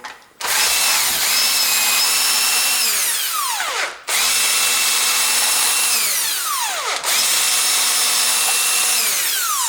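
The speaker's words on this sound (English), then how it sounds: "now all bolts are loosened, and I can remove these" Power tool whirring on cylinder head bolts of a Ford Duratec engine, three loud sustained bursts with winding-down tails and brief pauses between them, no talking.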